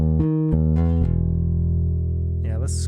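Bass guitar through a Joyo Scylla bass compressor pedal, a few short plucked notes and then a long sustained note held evenly, close and solo, followed by a brief slide near the end.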